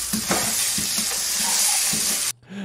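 Meat and egg being stirred into special fried rice in a hot pan, with a loud, steady sizzle and repeated scraping stirs close by that cut off abruptly near the end.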